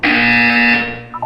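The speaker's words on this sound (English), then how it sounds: "When you hear the buzzer, look down at the floor." The buzzer in the video game Portal 2 gives a single loud, harsh, sustained electronic tone lasting about a second and then cuts off, alone with no talk over it.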